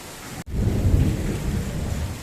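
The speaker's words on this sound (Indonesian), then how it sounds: "karena hari masih hujan dan sepertinya hujannya cukup lama" Heavy rain pours steadily with a deep rumble of thunder rolling underneath, loud and continuous after a brief break near the start, with no voices.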